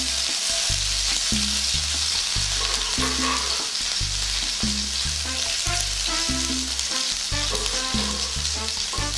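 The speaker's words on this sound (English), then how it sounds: "we're now going to be adding our vegetables" Vegetables fry in hot olive oil over medium heat for Cuban-style shrimp creole, a bright continuous sizzle with rhythmic background music underneath.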